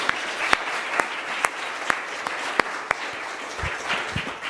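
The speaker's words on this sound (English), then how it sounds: "I think we all should give a round of applause to NSF" An audience at an NSF-related CIRCL science and engineering meeting gives a round of applause, sparse claps ringing out at a steady rhythm, fairly faint and distant in a large room.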